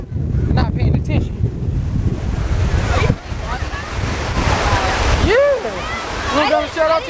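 Waves break and wash along the shore as someone walks right beside the water on a beach, with strong wind buffeting the microphone and people talking over the surf.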